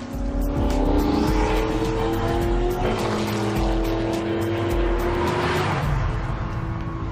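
Race cars make top-speed passes, a loud engine scream climbing in pitch as one car accelerates, then a second roaring run builds and fades, with a constant rushing background.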